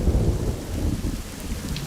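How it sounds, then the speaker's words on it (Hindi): Heavy rain pours down in a steady wash with a deep rumble of thunder rolling underneath, loud and close throughout a brief stretch. "बारिश तो थमने का नाम ही नहीं ले रही है।"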